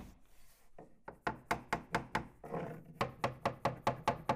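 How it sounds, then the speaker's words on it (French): Hammer blows fitting a wooden skirting board in a kitchenette build: a steady run of about a dozen sharp, close knocks in even rhythm, with no talk. "Vous pouvez à présent placer votre plinthe à l'aide d'un marteau."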